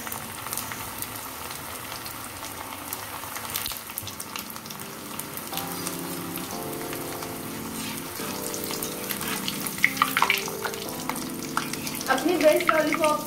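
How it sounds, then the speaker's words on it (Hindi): Veg lollipops deep frying in hot oil in a kadai give a steady, close sizzle that grows busier and more crackly toward the end. "अब हम इसमें अपने वेज लॉलीपॉप डालेंगे डीप फ्राई होने के लिए।"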